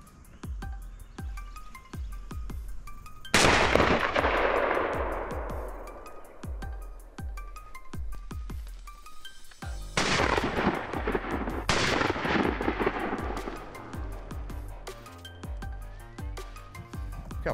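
Shotguns fire during a quail hunt in Georgian fields: three loud, sharp blasts ring out with long decaying echoes, two close together later on, amid soft rustling and clicking footsteps.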